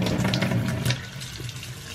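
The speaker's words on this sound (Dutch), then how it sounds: "Kijk, als je de kraan aanzet en je knijpt erin," Water streams from a kitchen tap into a sink, a loud steady rush for about a second that then drops to a softer trickle.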